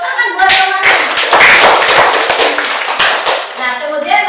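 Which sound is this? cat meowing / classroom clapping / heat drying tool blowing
classroom clapping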